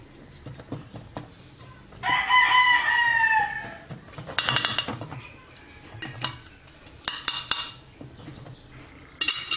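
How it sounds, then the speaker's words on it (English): A rooster crows loudly and nearby, followed by scattered clucking and squawks from several chickens, with clattering kitchen noises between calls. "God damn all these fucking chickens!"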